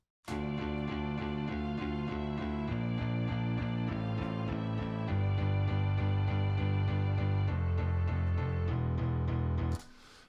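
A bowed violin melody plays over sustained piano chords, moving through several phrases at steady volume before stopping abruptly near the end.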